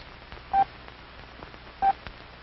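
Two short, evenly spaced Morse code dits from a steady tone, each a brief beep with a pause between, heard alone against faint background hiss in a hand-sending lesson.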